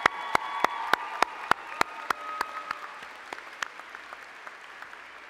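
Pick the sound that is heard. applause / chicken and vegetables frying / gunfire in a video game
applause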